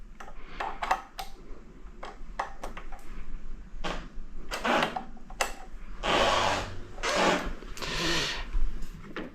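Hand-screwing a fork protector onto a CF Moto 450 MT motorcycle: a run of short scraping, clicking and rasping bursts of tool and part contact, fairly close, with brief pauses between them and a few louder grinding passes toward the end.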